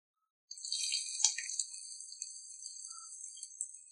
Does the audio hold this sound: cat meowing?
no